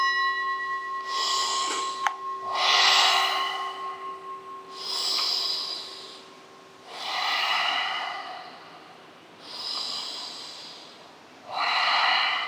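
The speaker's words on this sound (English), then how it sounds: "We'll be breathing deeply here for 1 minute." Deep, rhythmic breathing during a kundalini spinal kriya yoga practice: about six loud, forceful breaths in slow succession, close up, with a steady tonal drone underneath and no talking.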